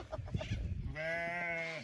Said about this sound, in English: So we're feeding the goats lucerne.